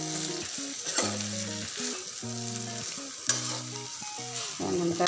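Bitter gourd frying in oil: a continuous bright sizzle with occasional sharper crackles, heard close and alone apart from a tonal melody running underneath.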